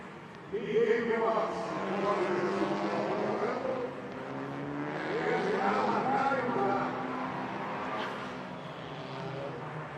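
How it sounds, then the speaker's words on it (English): TCR touring race cars arrive at the grid at Interlagos, their engines a steady, moderately distant drone with shifting tones that persists beneath a commentator's continuous voice. "Cars are arriving into the grid."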